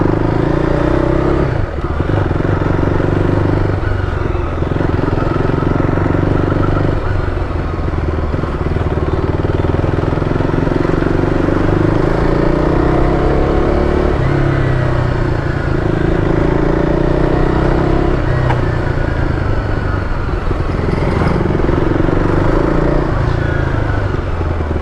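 A rebuilt motorcycle with a slipper clutch rides steadily on a test run, its engine droning loudly and close throughout, rising and falling with throttle changes and gear shifts.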